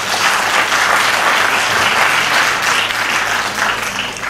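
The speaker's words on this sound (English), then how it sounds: "Please give them a big round of applause." A hall audience at a Bengali music program gives a big round of applause for the participants, loud and dense, sustained clapping that stays even from start to finish.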